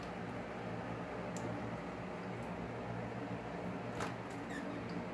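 Creamy shaving soap being worked into a thick lather, giving a steady close-up wet squishing and crackling of suds with occasional brief sharper squeaks, continuous and alone without talk.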